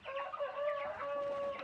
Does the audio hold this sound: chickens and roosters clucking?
yes